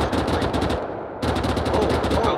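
Loud, rapid automatic gunfire in ARMA 3 rattles in close bursts, with a short lull before the firing picks up again.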